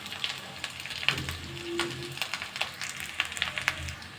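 Cooked rice goes into a sizzling pan for peanut rice, giving a soft, crackling fry with scattered pops and a brief stirring scrape, fairly quiet and close, with no talking.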